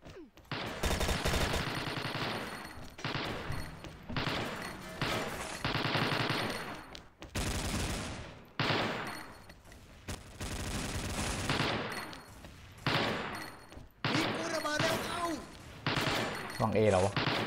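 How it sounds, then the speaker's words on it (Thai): Gunfire in the shooter game XSHOT comes as loud bursts of automatic fire and rapid shots in repeated volleys with short gaps between them, while a voice talks now and then. "เสียงคนโดนยิงจากไหนวะ"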